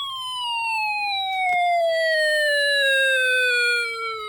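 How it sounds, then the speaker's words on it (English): A Hess toy truck's electronic siren sounds a steady, loud wail that slowly falls in pitch, with rich overtones and no talking. "And here's one of the sirens."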